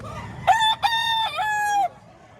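A young gamefowl stag crows once, close and loud, in a clear harmonic cock-a-doodle-doo lasting about a second and a half with a brief break near the start, against quiet background.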